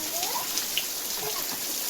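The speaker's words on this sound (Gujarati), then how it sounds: "આખો દિવસ વરસાદ પડે છે તમને બતાવું." Steady rain falls on a village with a continuous soft hiss and scattered patters of drops, no voices.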